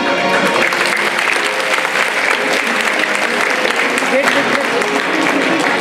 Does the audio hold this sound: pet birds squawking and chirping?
no